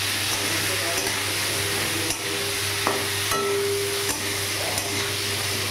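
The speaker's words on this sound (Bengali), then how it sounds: "আর আলুটাকে একটু লাল লাল করে ভেজে নেব।" Potato pieces coated with turmeric and salt sizzle steadily in hot oil with bay leaf and dried chilli, a continuous close frying hiss with occasional stirring scrapes.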